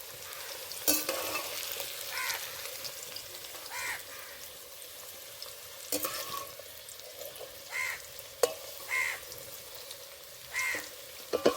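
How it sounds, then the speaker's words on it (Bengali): Jackfruit pieces frying in goat fat in a pan, a steady sizzle broken by repeated spatula scrapes and clanks, with crows cawing faintly in the background. "বন্ধুরা যে কটা এচড় আছে এ কটাও ভেজে নেব"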